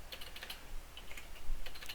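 Quick bursts of typing on a computer keyboard, light irregular clicks close by, with a brief pause midway before the tapping resumes.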